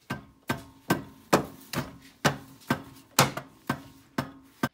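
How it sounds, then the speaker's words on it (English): A hammer strikes an alternator into place on an Acura TSX ten times in a steady, brisk rhythm, each metal blow sharp and close, with no voices. "You always gotta hit it with your hammer, regardless."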